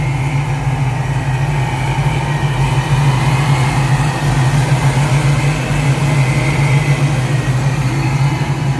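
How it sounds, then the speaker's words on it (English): A 1969 Chevrolet Camaro pro-touring build with a custom LS3 V8 and ProCharger supercharger idles nearby, giving a steady, unbroken low rumble throughout with no voices. "It's an LS3 custom built motor with a pro charger."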